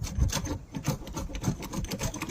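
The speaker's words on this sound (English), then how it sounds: "We sand and scrape all the siding." Hand sanding and scraping on the weathered wooden siding of a 125-year-old historic Texas house, repeated rough rasping strokes in an irregular rhythm, fairly quiet and close.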